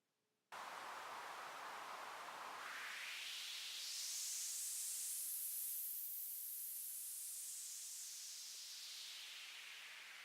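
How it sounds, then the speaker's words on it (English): A bandpass filter sweeps slowly over white noise, a hiss that starts abruptly and rises from a low dull rush to a bright sizzle before easing back down. "By sweeping a bandpass filter over white noise, you can get a good sense of what different frequency regions sound like."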